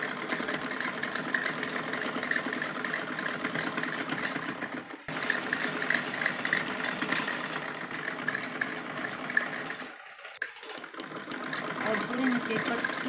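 A sewing machine joins lining to a salwar with fine stitching, a continuous mechanical drone that dips briefly twice, while a voice talks over it.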